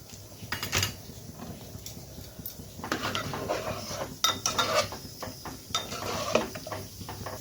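Boiled milk taro tipped into a cooking pot of moong dal sounds as clinks and scrapes of a spoon against metal, with intermittent clattering and stirring, close and moderately loud.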